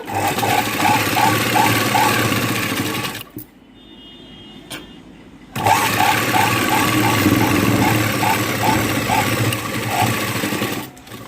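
A sewing machine runs in bursts, stitching a blouse with loose stitches, its rapid mechanical whir and rhythmic clicks stopping for about two seconds midway before resuming.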